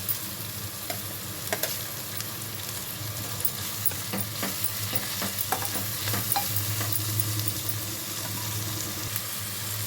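Cleaned dry fish sizzles and fries in a tomato curry while a spoon stirs it. A continuous close frying hiss carries scattered scraping stir clicks throughout, with no voices.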